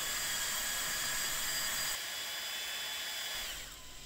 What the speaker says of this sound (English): so I will use my drill.